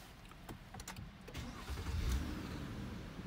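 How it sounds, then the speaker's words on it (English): A car engine starting, heard as a faint starter crank rising into a low engine rumble in a quiet setting, with no talking. "we'll turn on the car now for the before."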